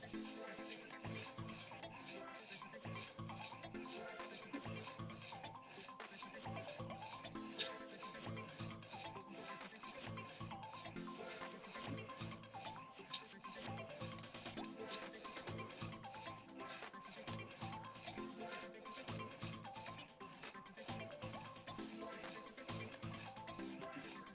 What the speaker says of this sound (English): So that's the trick to sharpening is you want to get that nice even burr